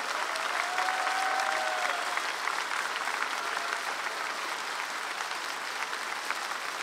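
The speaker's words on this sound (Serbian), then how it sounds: "aplauz, molim vas!" A studio audience on a Serbian television entertainment show claps in sustained, even applause that fills the whole stretch at steady loudness with no pauses.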